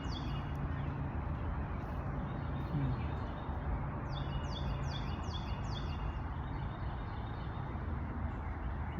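Several short, clear, down-slurred bird whistles sound outdoors in a quick series, set against a steady broadband rush of wind or traffic, with no talk.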